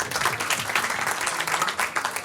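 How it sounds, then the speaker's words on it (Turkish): Audience applause at a quiz night, a steady dense patter of many hands clapping that fills the short stretch without talk. "Alkışlayalım o grubu da."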